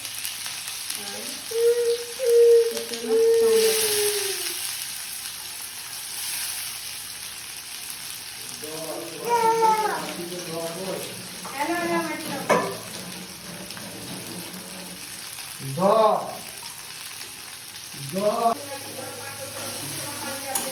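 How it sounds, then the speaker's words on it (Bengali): Onions fry in hot oil in a wok, giving a steady, moderately loud sizzle across the whole stretch, with occasional brief voiced sounds rising over it. "কড়াইতে তেল দেওয়া হয়ে গেছে, তেল গরম হয়েছে। এরপর আমরা পেঁয়াজ দেবো"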